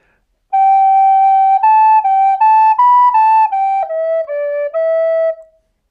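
A recorder plays a slow ten-note melody, G A G A B A G E D E, each note clear and breathy-pure, tongued separately, close and fairly loud, alone with no talking.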